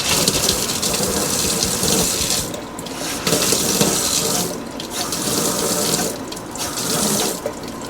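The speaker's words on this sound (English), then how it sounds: "So if I turn on the deep sink water, I should have, oh, look at that. We have cold water." Cold water running hard from a basement deep sink faucet, a loud steady splashing rush with brief dips and surges as the flow is adjusted.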